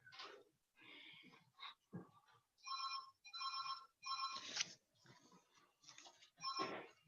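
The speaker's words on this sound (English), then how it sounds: "so now it's ringing back to" An electronic telephone ringtone warbles in repeated short bursts, steady and fairly close, with no talking, during a tribunal hearing in London.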